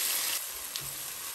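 Ginger and garlic paste sautéing in a hot pan gives a steady, close sizzle of frying, broadband and even, with a brief stir partway through.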